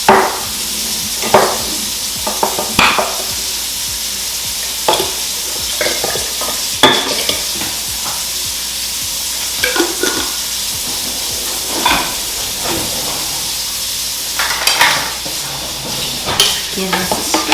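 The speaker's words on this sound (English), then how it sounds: "Give this a stir." A drink with a whole jar of maraschino cherries and their syrup is stirred, giving a steady wet hiss with repeated sharp clinks and scrapes against the container, close and fairly loud.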